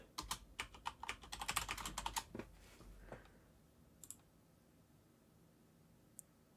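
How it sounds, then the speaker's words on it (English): Rapid bursts of computer keyboard keystrokes as a password is entered, a dense flurry of clicks for about two seconds, then a few scattered isolated taps trailing off into quiet. "Don't try to type in a password when you've been drinking."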